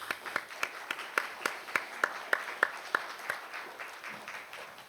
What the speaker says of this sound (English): Let's give the director, Min Zhou, another round of applause.